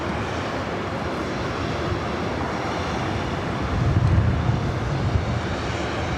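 A steady, loud roar from an Airbus A319 jet's engines at LAX airport. The broadband rumble holds constant and swells slightly toward the end, with no voices.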